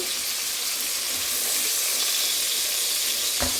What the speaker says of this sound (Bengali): মাছগুলো ভাজতে চলে যাচ্ছি তেলটা গরম করে নিয়েছি মাছগুলা হালকা ভেজে নিব